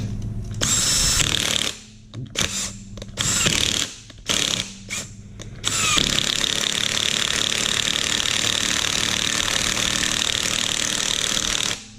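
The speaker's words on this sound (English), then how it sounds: "we're going to tighten this baby down. With our 15mm socket." Power tool whirring in bursts, then a long steady run as engine head bolts are driven down with a 15mm socket on a junkyard Ford flathead engine build, close and loud with no talking.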